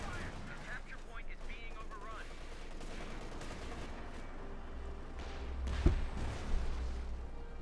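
Artillery and mortar fire booms in Company of Heroes 2, a steady battlefield rumble of gunfire and distant shelling with a heavier impact near the end, and a voice talking over it at moments.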